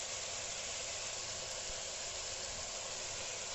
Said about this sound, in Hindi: सब्जियों को अच्छी तरीके से चिकन में मिक्स करके भूनना है।